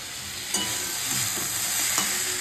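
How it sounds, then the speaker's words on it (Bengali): Curry reheating and simmering in a pan, a steady soft sizzle with a few faint stirring scrapes, close and continuous. "সকালে যে তরকারিটা বানিয়েছিলাম সেটা একটু ভালো করে আর একটু ফুটিয়ে নিচ্ছি"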